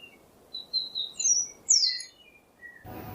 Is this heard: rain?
no